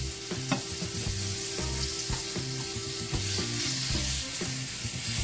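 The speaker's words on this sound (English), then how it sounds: "See that bubbling there in the hot oil?" Shrimp frying in hot oil in a pan make a steady close sizzle with bubbling, under repeated scraping and clinking as the pan is worked, with no talk.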